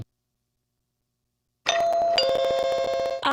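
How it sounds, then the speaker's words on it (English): A home doorbell rings after near-silence, a bright two-note chime followed by a sustained ringing tone that cuts off and starts again at the end. "Ah, the sound of my doorbell."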